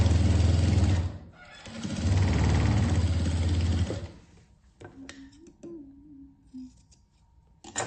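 Sewing machine stitching both sides of a patchwork quilt, a loud steady motor hum in two long runs with a short pause between, then quiet handling clicks and a faint whine.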